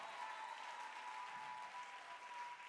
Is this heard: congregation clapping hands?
yes